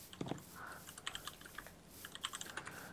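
Computer keyboard being typed on during a Minecraft session, a quick irregular run of soft close clicks and key taps, alone without talk.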